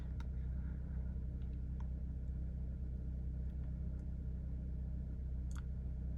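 A 10th-generation Honda Accord 1.5T (L15BE) engine idles during a cold-start warm-up, a steady low rumble with no revving, heard from nearby throughout.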